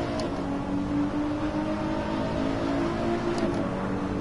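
A Nissan car engine in the Assetto Corsa racing game on PS4 hums at a steady, moderate drone, a sustained even tone with no speech over it.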